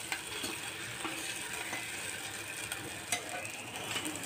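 Mutton curry masala paste is stirred in a pot to keep it from sticking. A steady scraping and sizzling texture runs throughout, with regular clicking scrapes from the spoon against the metal.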